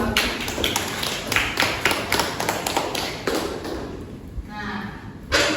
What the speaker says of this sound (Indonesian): berikan tepuk tangan untuk aku